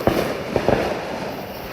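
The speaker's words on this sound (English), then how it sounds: "This is not an official fireworks display." Neighborhood fireworks go off at a distance, giving a few sharp pops and booms in quick succession against a steady outdoor background hiss.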